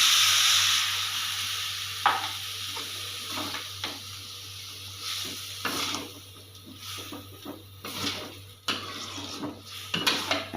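A chicken spice paste cooked with coconut milk for Balinese ayam betutu bubbles and sizzles in a pan while a utensil stirs and scrapes in irregular bursts, close and moderately loud.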